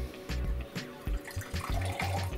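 Water pours into a thermos mug in short splashing bursts with brief pauses between them, close and fairly quiet, with no talking.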